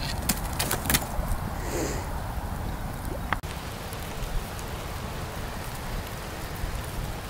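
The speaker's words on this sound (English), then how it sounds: "it's starting to lightly rain" Light rain falls steadily outdoors beside a burning stump, a soft continuous patter of drops with a few brief sharper taps, moderately near and alone without talk.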